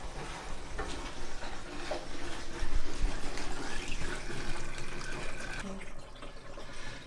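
Water gushing from a fully opened drain valve on a residential water heater being flushed of sediment, a steady rushing, splashing flow that runs throughout, fairly close, with no talk over it.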